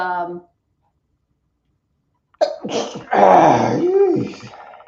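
A short, sharp burst near the start, like a sneeze, then a pause before nearby voices start talking.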